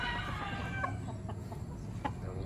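Backyard chickens grown from chicks, clucking and calling in a steady close farmyard chorus, with a few sharper squawks standing out over a constant low background.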